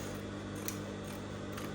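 Scissors trim excess Aso Oke fabric from a sewn document holder bag, a steady close-up snipping and rustle with a few sharper cuts standing out, no one speaking.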